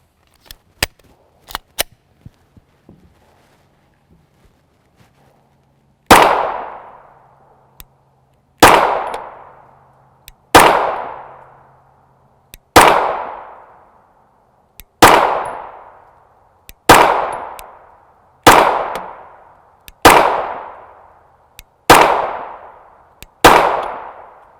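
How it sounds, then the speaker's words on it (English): Nine loud 9x19mm 124-grain FMJ pistol shots fired into a dirt mound at a private range, spaced about two seconds apart, each a sharp crack with a ringing decay, preceded by faint handling clicks. "I have a 35-yard mound of dirt down here at 25 yards that I'm firing into"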